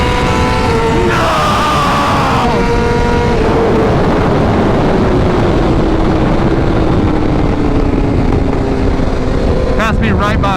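A racing motorcycle, a BMW HP4 Race or M1000RR, passes on track. A loud, steady engine roar fills the clip, with a falling pitch sweep as it goes by and a brief whine near the end.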